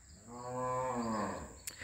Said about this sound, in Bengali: একটু আগে যেমন গরুর শব্দ পাইছি